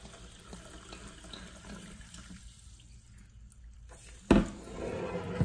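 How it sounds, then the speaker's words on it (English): Q Club Soda carbonated water with Himalayan salt pours into a container, a soft steady trickle that dips briefly, then swells into a louder, closer splashing gush near the end. "Let's pour some water in."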